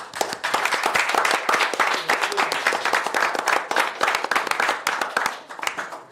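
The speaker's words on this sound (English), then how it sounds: "Are you allowed to clap?" Audience members clap at a school governing board meeting, a moderate round of individual claps with distinct sharp hits, fairly close and steady for several seconds without easing off.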